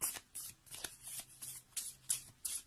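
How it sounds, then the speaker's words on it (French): A deck of tarot cards is cut and shuffled by hand, giving about eight quick, crisp riffling bursts in an uneven rhythm, close and fairly quiet with no talk over them. "Je pense que je vais devoir couper mon jeu."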